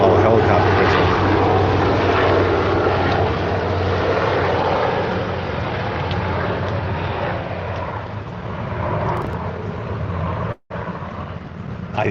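A helicopter passes overhead on an outdoor trail at Runyon Canyon, a loud, steady rotor and engine roar that fades slightly toward the end, with a brief dropout near the close.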